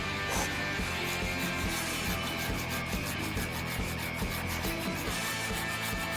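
A hand saw rasping back and forth through a tree branch in a steady, rapid rhythm, close up and continuous.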